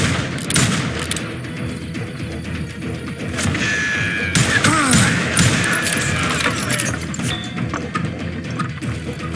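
Gunfire in the Wild West shooter Call of Juarez: Gunslinger, with repeated sharp cracks and impacts over busy game music and effects, fairly loud throughout.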